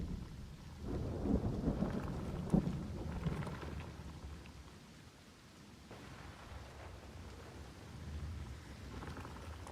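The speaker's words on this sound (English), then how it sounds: "Has been stormy a little bit." Thunderstorm with rain: low rumbling thunder rolls swell through the first few seconds over a steady wash of rainfall, easing and then building again toward the end, with no voices.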